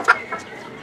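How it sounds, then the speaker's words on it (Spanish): Nagasaki breed hen giving a single short cluck followed by a softer second note, close and brief. "Esta linda gallinita de la raza Nagasaki."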